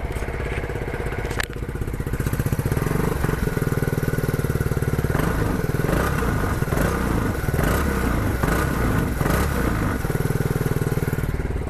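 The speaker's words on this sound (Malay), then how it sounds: "macam itulah dia punya bunyi untuk Nova 250 ni" An Aveta Nova 250 motorcycle engine runs steadily up close, idling with a rough, pulsing note and revving a few times in uneven bursts, loud and continuous throughout with no talking.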